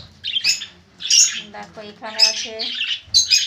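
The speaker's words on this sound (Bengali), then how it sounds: "ছটা পাখি, তার মধ্যে 5টা পাখি এই জায়গায় ডালে বা এখানে বসে আছে" Several small birds perched on branches and in a clay pot during hot weather give loud, close squawking chirps in short bursts, with a voice briefly speaking between them.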